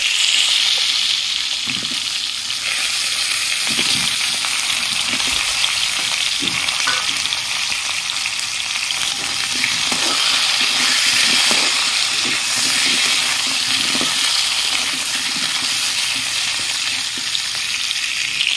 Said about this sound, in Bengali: মাছ ভাজার তেলেই আমি পটল আর আলু ভেজে নিচ্ছি।